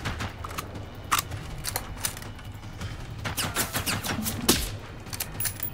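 Distant enemy gunfire in the video game Generation Zero, a string of sharp cracks and short bursts spread irregularly across the clip, fairly faint and far off over game ambience.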